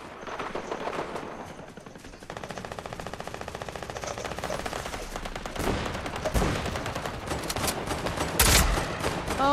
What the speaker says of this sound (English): I shot myself!